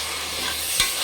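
Peas being fried with fenugreek greens in a pan, a steady sizzle with one brief stirring scrape, close and alone without voices.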